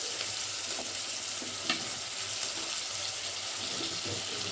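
Beans, carrots and potatoes frying in a pan for Mumbai street-food pav bhaji, giving a steady, close sizzle with occasional stirring scrapes and light clinks throughout.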